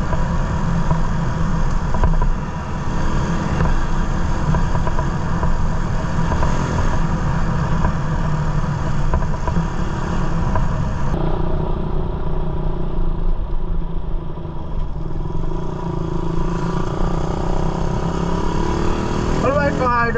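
A Raider 150 motorcycle with an updated carburetor drones steadily while being ridden, a continuous close engine hum mixed with wind rush, heard under someone talking.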